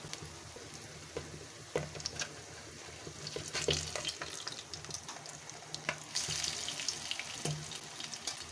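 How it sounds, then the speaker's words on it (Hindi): Masoor dal kababs frying in oil on a low flame, giving a faint, steady crackle with scattered sharp pops and a few louder spatters, with no talking. "और लो फ्लेम से हम इसको फ्राई करेंगे"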